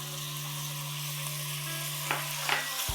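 Grated tomato frying in a pan as a base for mutton curry, a steady close sizzle with a constant low hum beneath and a couple of brief stirring scrapes near the end.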